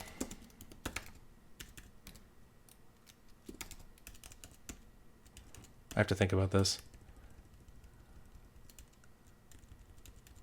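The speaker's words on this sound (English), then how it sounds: "This is just the keyboard that came with my Mac Studio." Clicks from an Apple wireless keyboard that came with a Mac Studio arrive as scattered, near taps, then a dense burst of rapid typing, with a person speaking between the keystrokes.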